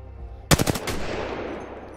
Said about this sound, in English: R301, which might be my favorite SMG.